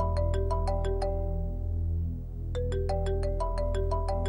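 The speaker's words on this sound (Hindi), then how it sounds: "तुम्हारा फोन बज रहा है" A mobile phone rings with a repeating electronic melody, two bursts of quick bright tones separated by a short pause, loud and close over a steady low hum.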